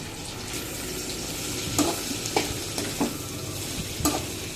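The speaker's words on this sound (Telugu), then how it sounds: "అలా ఒక 5 minutes ఫ్రై చేసుకున్నాం" Ridge gourd peels fry in a pan with a steady close sizzle, while a spatula scrapes and knocks against the pan a few times at regular intervals.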